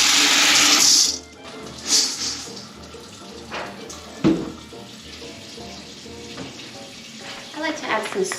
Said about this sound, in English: I guess I need to fill up my pot with water.